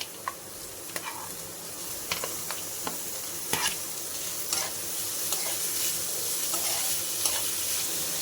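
Paneer cubes and chopped vegetables frying in a pan with a steady low sizzle, broken by sharp clicks and scrapes of a spoon stirring, alone with no talk.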